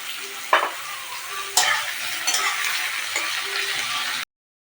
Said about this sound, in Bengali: আমি ওর সঙ্গে দেখুন আলুগুলোও দিয়ে দিচ্ছি। আলুগুলো একসঙ্গে তাড়াতাড়ি ভাজা হয়ে যাবে।